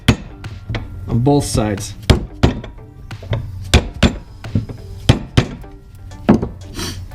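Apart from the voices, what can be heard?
tapping a screwdriver to separate Civic motor mount bushing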